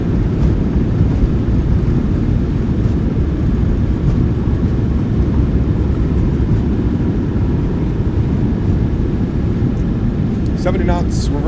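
A Boeing 737-800 in a simulated landing rollout at Schiphol with thrust reversers deployed gives a loud, continuous low roar and rumble that holds steady throughout, with a faint rattle near the end.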